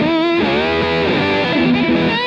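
Lap steel guitar with an ash body and an Arcane true single coil pickup gives a continuous sliding, gliding tone with overdriven bite and bright top end. It sustains steadily and stays close, with no talking.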